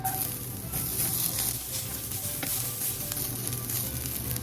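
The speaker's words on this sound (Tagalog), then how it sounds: "Lagay natin yung ating bawang. Magigisa na tayo." Garlic sautéing in oil left over from frying tofu for adobong kangkong, a steady close sizzle with light stirring scrapes throughout and no voices.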